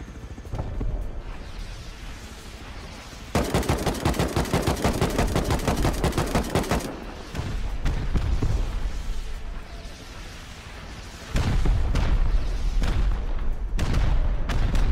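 An attack helicopter in the game Rust destroys a base: loud bursts of rapid machine-gun fire and heavy explosive booms, with a dense stretch of continuous gunfire in the middle and more blasts near the end.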